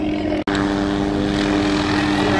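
A helicopter drones steadily nearby, its engine and rotor hum constant and fairly loud, with one brief dropout early on.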